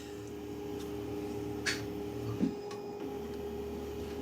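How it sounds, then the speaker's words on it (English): An Anycubic Kobra S1 3D printer rehomes its axes, a steady electrical hum and fan drone with a few faint clicks and soft mechanical knocks as the motors move, close and continuous. "So now we want to rehome the printer."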